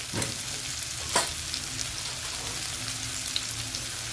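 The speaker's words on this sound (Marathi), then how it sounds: "आता आपण तिखट टाकणार आहे एक चमचा तिखट टाकलं" Mixed vegetables sizzle steadily in hot oil in a pan as chili powder goes in, a constant close crackling hiss with a couple of brief stirring scrapes.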